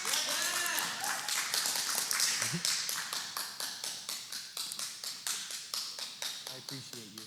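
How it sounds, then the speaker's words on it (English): Church audience claps at a Faith Church service, mixed with voices and cheering at first, then settling into rhythmic, evenly spaced claps that fade gradually. "Can we get a round of applause for Gabe?"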